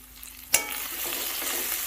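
Spices sizzle in a little added oil for a spicy koi fish curry, a sharp clink at the start, then steady close frying hiss with faint stirring scrapes, no voices.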